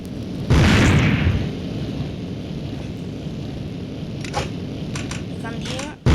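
A loud grenade blast in a battle royale video game, a sudden booming burst followed by a rumbling tail and scattered game sounds, with a voice chatting over it.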